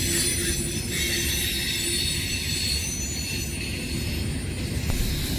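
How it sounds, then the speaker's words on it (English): Freight train rolling past at Elkhart, a loud continuous rumble of wheels and cars with a high metallic ring over it, constant throughout. "I believe this train that's coming right now is 309, the one behind the grain train"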